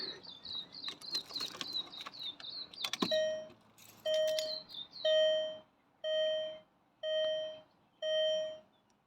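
A Volkswagen New Beetle's ignition chime plays as the car is switched on: a quick run of high electronic beeps, then a slow, even series of six or so longer tones, close and clear inside the cabin.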